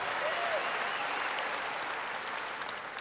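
A large rally crowd claps in a dense, sustained wash of applause, steady and full, easing slightly toward the end.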